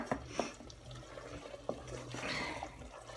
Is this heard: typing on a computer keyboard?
no